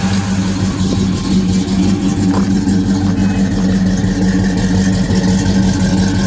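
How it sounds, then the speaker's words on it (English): A 1972 Oldsmobile Cutlass Supreme convertible idles close by, its engine rumbling steadily through ceramic-coated headers and Flowmaster exhaust, a loud, even low throb with slight pulsing. "So get that rumble from the Flowmasters."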